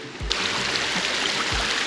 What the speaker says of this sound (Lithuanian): Šaltinėliai teka visokie